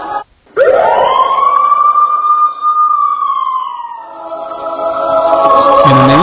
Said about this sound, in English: You hear the siren.